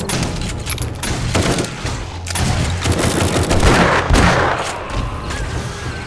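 Automated turret gunfire in the video game 7 Days to Die rattles in a loud, continuous barrage of rapid shots with booming impacts, with no pauses across the stretch.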